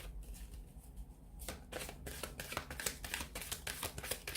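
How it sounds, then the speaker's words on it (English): A deck of tarot cards being shuffled up close, a steady run of rapid papery riffles and soft flicking slaps lasting several seconds, with no voices. "So we'll give the cards a shuffle"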